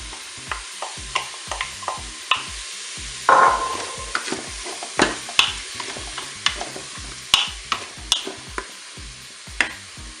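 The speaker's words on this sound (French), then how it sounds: "Vous voyez, l'huile est assez chaude. Je vais maintenant rajouter les oignons." Onions frying in hot oil inside a Cookeo multicooker crackle with a soft sizzle beneath repeated scraping stir strokes, one sharper clatter near the start, all close and fairly quiet.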